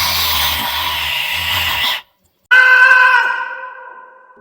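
A man's scream in a Hindi horror story, loud and drawn out, breaking off abruptly, then after a short silence a second strained cry that slowly fades.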